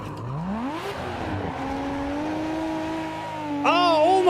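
A Nissan Skyline in a racing simulator game drifting, engine revving up then holding a steady drone as it slides, with tire squeal rising sharply near the end.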